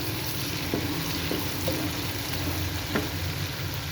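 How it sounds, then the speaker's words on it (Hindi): Chopped onions sizzle steadily in about two cups of hot oil for chicken keema, a constant close frying hiss with a few soft stirring knocks. "प्याज जो है ये हमारा सौते हो गया है, पर थोड़ा सा इसको हमने पिंक पिंक करना है।"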